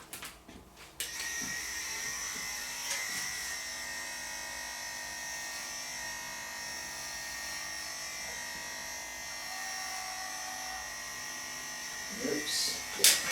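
Electric dog clippers fitted with a 16 mm guard trim a bichon's coat at home, a steady close buzzing hum running almost the whole time, with light handling noises and a brief bump near the end.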